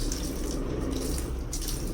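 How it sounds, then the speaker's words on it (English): Water pours steadily over houseplants during a morning routine, a continuous low, even splashing wash with no talk. "Little morning things is water your plants."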